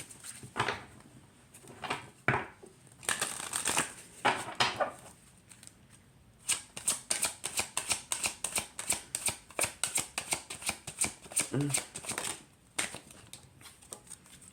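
Oracle cards from a Beast Mistress Animal Oracle deck are shuffled by hand in close, dry riffling bursts, with a pause before a long run of quick, rhythmic flicks and no talking.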